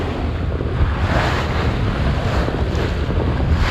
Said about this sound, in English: slow the boat down because I'm punching into some pretty decent waves